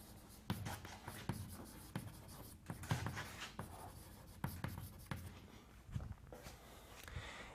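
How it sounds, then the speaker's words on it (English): Chalk tapping and scraping on a board during a mathematics lecture, a steady run of short irregular strokes and taps at close range, with no talk over it. "So let me write this down."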